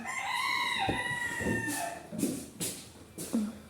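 Chickens cluck and a rooster crows at a home coop, the calls loud and close: a sustained crow early on, then several short, bright clucks and squawks spaced across the rest of the clip.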